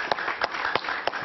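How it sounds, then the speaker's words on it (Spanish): Studio audience clapping for a guest on a talk show, a steady wash of hand claps with a few sharper bursts standing out, fairly close and carrying on without any voices. "Un aplauso para él,"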